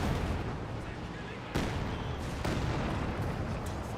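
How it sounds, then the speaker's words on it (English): Katyusha rocket barrage in the Company of Heroes 2 battle game: dense, continuous rumbling fire with sharp new volleys bursting in around the middle, loud and steady throughout. "here comes Katyusha rocket barrage."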